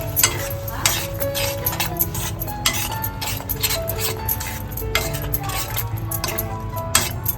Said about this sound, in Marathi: याच्यामध्ये हा वाटप बनवला होता तो घालून घेतलाय सर्व व्यवस्थित मिक्स करून घेतोय